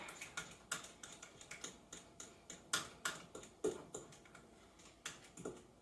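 Cupcake batter for Christmas tree cupcakes is stirred in a bowl up close, giving an irregular run of sharp clicks and taps from the utensil against the bowl, with no talking.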